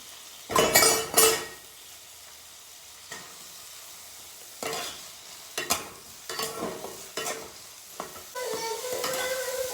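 Parboiled carrots and cauliflower with capsicum, raisins and almonds fry in a pan for fried rice, heard as sharp bursts of sizzling and repeated stirring scrapes separated by quieter gaps, ending in a steady sizzle.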